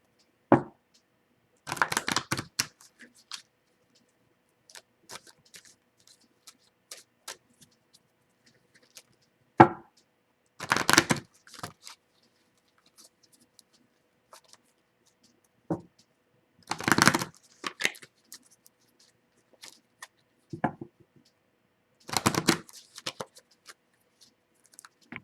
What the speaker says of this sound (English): I'm going to shuffle the cards once for every letter of your name